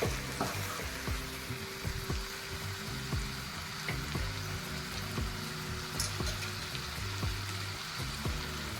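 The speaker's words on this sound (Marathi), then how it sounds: "आता आपल्याला पाणी यामध्ये गरम पाणी टाकायचं आहे" Steady, close sizzling and crackling as hot water is poured into hot oil and masala for country chicken curry, with a dense hiss that continues throughout without pause.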